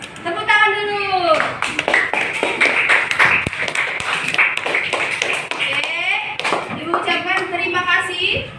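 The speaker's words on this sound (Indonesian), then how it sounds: "Tepuk tangan dulu" A fifth-grade class claps along in a classroom, with rhythmic, close hand taps mixed into lively children's voices and chanting that dominate throughout.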